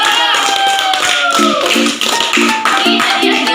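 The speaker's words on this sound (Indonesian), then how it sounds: "Beri tepuk tangan dulu." Students in a classroom clap together, a dense, steady patter of hands with a few brighter taps on top and a faint tonal sound behind it.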